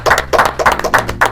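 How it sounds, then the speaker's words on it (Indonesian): Claps from a podcast studio audience, heard as five separate bursts of a few quick claps, close and fairly loud, with short gaps between them. "Tepuk tangan buat mereka berdua"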